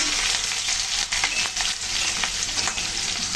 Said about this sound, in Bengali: লঙ্কাটা দিয়ে হালকা একটু নেড়ে চেড়ে নিই